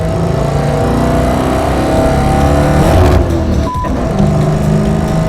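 A race car on a One Lap of America lap, its transmission slipping out of third gear under acceleration and deceleration, roars loudly and continuously close up, with engine pitch rising and falling and a brief dip in the middle.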